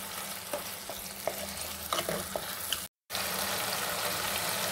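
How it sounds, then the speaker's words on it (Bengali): Restaurant-style chili chicken with a splash of vinegar is stirred in a pan, giving a close, continuous sizzle punctuated by spatula scrapes and clicks, a brief cut of silence near three seconds, then the sizzle resumes without speech. "একটু নাড়াচাড়া করে নেব।"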